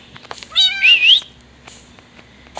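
A cat meowing in a Minecraft game, two or three short rising mews close and clear, followed by a few soft clicks, with no talk.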